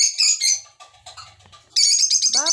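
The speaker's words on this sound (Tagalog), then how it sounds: "Nag-iingay ang aming mga ibon." Small birds chirp and trill in rapid bursts, loud and close, with a brief quieter gap in the middle before the chatter resumes.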